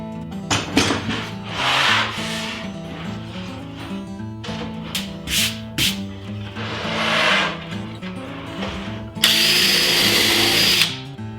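A power drill bores shelf-pin holes through a drilling jig into the side of a TV lift cabinet, with a steady motor whine broken by repeated close, loud drilling bursts and a harsher burst near the end.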